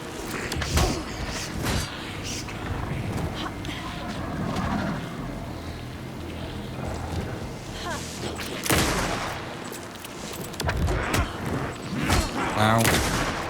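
Shotgun and rifle gunfire in Alan Wake II, scattered heavy blasts and sharp reports standing out over a dense, busy game mix of rumble and mechanical clatter, with a voice talking at times.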